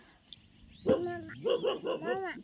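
A dog barks several times in a quick, uneven series, close and fairly loud, with a faint whine between barks.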